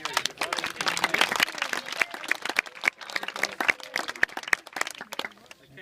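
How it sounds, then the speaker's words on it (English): Applause from a school audience of children and adults during a primary school visit, a dense burst of clapping that fades toward the end, with some voices mixed in. "A big round of applause for Fonterra."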